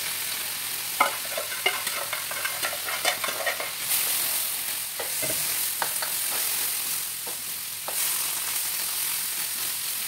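Carrots fry in a pan for a lumpiang shanghai filling, a constant loud sizzle with bursts of spatula scraping and clatter, heavier in the first few seconds, then easing into steady frying with occasional knocks.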